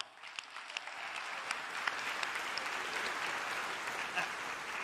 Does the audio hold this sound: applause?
yes